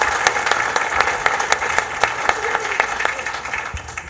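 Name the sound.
applause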